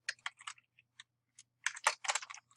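Typing on a computer keyboard, close and quiet, with a few scattered single key clicks followed by a quicker burst of keystrokes.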